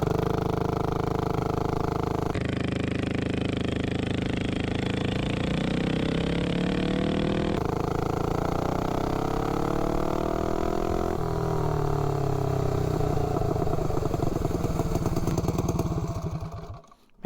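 Minibike engine fitted with a 3-foot-long intake manifold, revving loud and close in long sustained bursts with rising pitch as it accelerates, then cutting off at the end.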